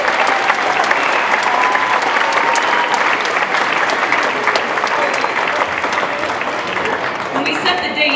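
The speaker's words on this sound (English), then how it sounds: "so round of applause to the kids." An audience at a kindergarten and first grade winter concert applauds the children with loud, sustained, dense clapping that continues evenly throughout, with a faint murmur of the crowd beneath it.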